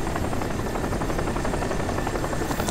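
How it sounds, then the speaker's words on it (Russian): Steady, dense helicopter rotor drone from the military shooter Crysis in multiplayer, loud and continuous throughout with no pauses or talk over it. "Что за вертолеты?"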